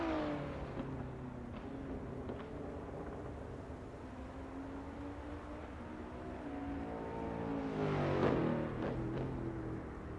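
A Camaro engine in a racing game hums and drones steadily at moderate volume, swelling into a louder rev near the end, with no talk over it.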